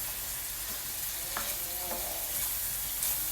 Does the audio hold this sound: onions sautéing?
yes